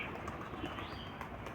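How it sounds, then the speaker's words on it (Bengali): Punjabi Malwai pigeons in flight, a dense steady flutter of wings with faint cooing and chirps mixed in. "আবার কবুতর উড়ুক এখন"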